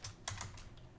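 A short burst of typing on a computer keyboard, several quick close key clicks in an uneven rhythm, alone with no talk.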